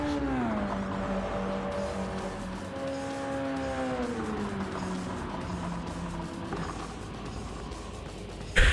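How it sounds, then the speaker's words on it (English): A Subaru BRZ race car in Gran Turismo 7, qualifying for the Rolex 24 at Daytona GTD class, its engine droning steadily with pitch sliding up and down through shifts, loud and continuous, ending in a sharp thump. "That, ladies and gentlemen, is your Subaru BRZ."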